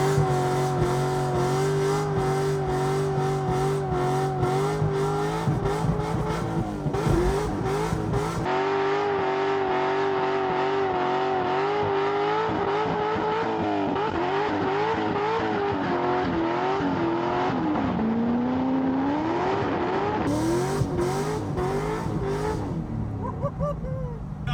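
A C6 Corvette accelerating hard, its V8 engine revving up through rising and falling pitch sweeps with abrupt gear changes, loud and close from inside the car, with faint voices in the background.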